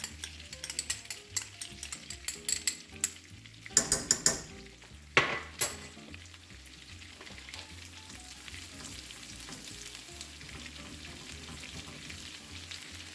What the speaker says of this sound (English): now that this butter is melted and it is starting to bubble, let's go ahead and put this garlic in.